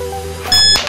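A kitchen timer being switched on for a seven-second challenge gives a short electronic beep tone, a single bright burst about half a second long, close and fairly loud, with no talking.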